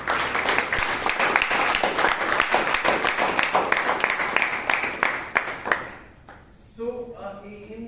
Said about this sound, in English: So give him a round of applause to him.